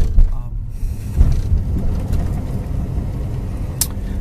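A light blue 1966 Ford Thunderbird with about 69,000 miles is driving, heard from inside as a loud, steady low rumble of engine and road noise with a few brief knocks.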